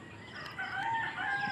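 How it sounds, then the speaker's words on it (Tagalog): Free-ranging backyard chickens, a rooster crowing with brief clucking, fairly near and moderately loud against faint outdoor background. "Naroon na ang aking mga manok."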